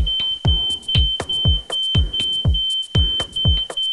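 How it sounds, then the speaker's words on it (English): A household smoke detector sounds a shrill, steady high-pitched tone with repeated sharp clicking pulses, about two per second, loud and close with no talking. "wave a towel near the smoke detector to clear the air and make it stop beeping."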